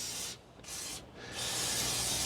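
Two short hissing bursts of WD-40 aerosol spray onto road tar, then a longer continuous spray, close and fairly quiet.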